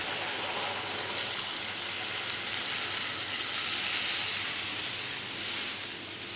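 Soaked paneer hits hot oil and spice paste in a pan, giving a loud, steady sizzle and hiss that holds evenly close by before easing slightly at the end.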